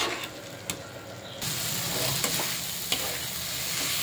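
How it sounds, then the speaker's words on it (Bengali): Rice sizzling and frying in a pan as it is stirred, a steady close sizzle and scraping that swells louder partway through, with occasional sharp clicks from the spoon. "এবার ভালো করে কষিয়ে নেব, চালটাকে একটু ভাজা ভাজা করে নেব"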